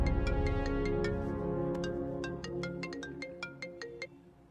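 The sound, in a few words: phone ringtone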